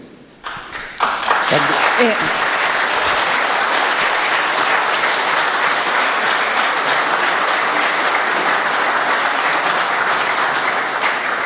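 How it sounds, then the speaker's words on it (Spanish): Applause at a political seminar swells after a few scattered claps into loud, sustained clapping from a large audience that holds steady, with faint voices mixed in. "veo que lo aplauden y le ponen harto énfasis"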